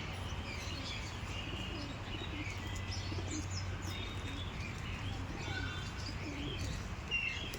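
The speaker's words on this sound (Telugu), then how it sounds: "పావురాలు. ఇవన్నీ పౌరాలు." Pigeons in an enclosure at Warangal zoo park give faint, low coos and scattered chirps against a steady outdoor hum.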